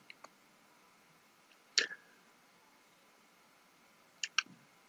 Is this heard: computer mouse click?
yes